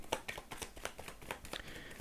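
Tarot deck being shuffled, soft papery riffles and card flicks, quiet and close, with a few light taps.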